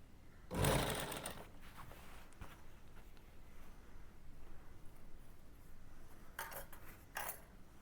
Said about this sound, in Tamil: இதை மடித்து இங்கே இந்த எட்ஜில் அப்படியே ஓரமாக தையல் போட்டுடணும்.